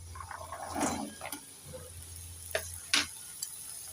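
Potato, carrot and radish frying in a pan are stirred, with a soft steady sizzle, a few scraping strokes and a couple of sharp utensil clicks against the pan, close by over a low background hum.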